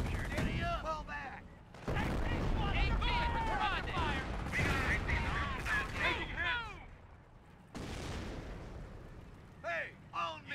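Gunfire crackles through a battle in the video game Company of Heroes, with sustained bursts and heavy booms filling the clip and several voices calling out over the fighting.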